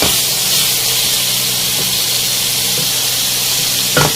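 Mutton karahi fries in oil for street-style Peshawari charsi karahi, giving a steady, loud, close hiss that holds throughout, with a short sharper burst near the end.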